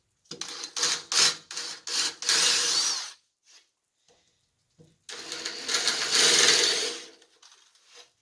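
A power drill boring holes for inserts in wood, with several short bursts of whirring followed by a longer drilling run after a pause, close and fairly loud.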